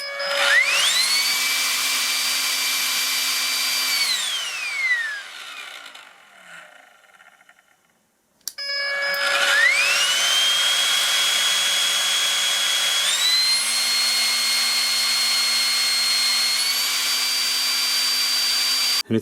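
A cordless lithium-ion vacuum cleaner whines loudly with steady high motor tones, spins down to near silence midway, then starts again and runs steadily.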